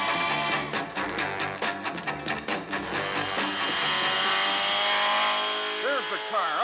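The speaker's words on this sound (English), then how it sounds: "The Batmobile. After him." The Batmobile speeds off in a chase, a loud engine roar with rapid revving bursts and tire noise that builds into a sustained high whine, over a dramatic music score.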